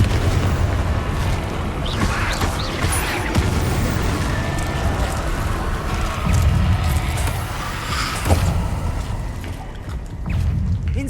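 Confringo explosion spell cast in the video game Hogwarts Legacy, with rumbling booms and bursts over a dense, continuous game soundscape and a sharper blast near the end.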